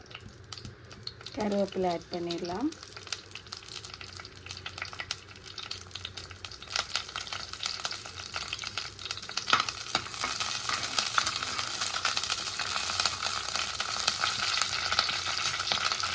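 Cinnamon, cloves, cardamom and curry leaves frying in sesame oil in a clay pot, a continuous spattering sizzle that grows louder and denser over time, with a brief voice near the start.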